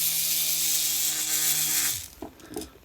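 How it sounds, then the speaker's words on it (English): A small battery-powered electric motor buzzes steadily up close, vibrating a loose free-running nut up a threaded stud, then cuts off after about two seconds, leaving a few faint rattles and clicks. "If I plug a small battery into it to make the electric motor run, the vibration will cause the nut to work its way up the bolt."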